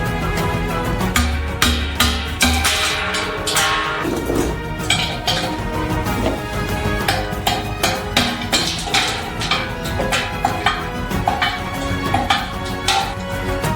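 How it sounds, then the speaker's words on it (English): Pieces of ice are struck with a hammer inside a metal drum, producing a dense, steady clatter of close metallic clinks and knocks that continues without pause and without talk. "What doesn't get through, we finish with a hammer."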